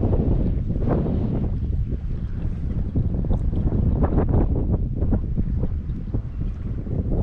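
Steady wind buffets the microphone while out on kayaks on open water, a loud continuous low rumble with gusty pulses and faint splashing, no clear talk.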